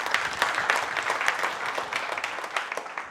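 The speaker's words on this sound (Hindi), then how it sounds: "लोगों के लिए जोरदार तालियां हो जाए एक बार" An outdoor political gathering breaks into loud, sustained clapping from a crowd, a dense patter of many hands with scattered sharper claps rising above it, continuing without speech.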